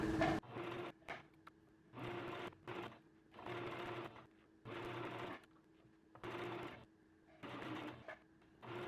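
A sewing machine stitching a seam on basketball shorts runs in repeated short bursts of rapid mechanical whirring, each a second or so long and separated by brief pauses. It is close and fairly quiet, with no talking.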